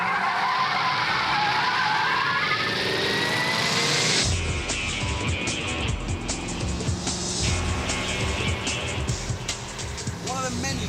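A Ford Mustang GT500 driven hard, its engine roaring loudly with sustained tire squeal and skidding, continuous and close throughout, with someone speaking over it.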